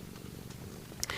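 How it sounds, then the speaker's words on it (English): A Sphynx cat purrs softly in a low, steady rumble at close range in a quiet room, with a brief click near the end. "She's a Sphinx cat."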